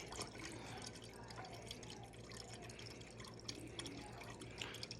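Filtered water from a fridge dispenser runs into the reservoir of a Presto iced coffee machine, a faint continuous trickle and drip at close range.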